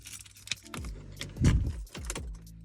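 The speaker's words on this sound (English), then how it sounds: "so I'm going to put my keys in" Car keys jangle and click as they go into the ignition of a Vauxhall Corsa, close and clear, with a few distinct metallic rattles and a brief rustle in a quiet cabin.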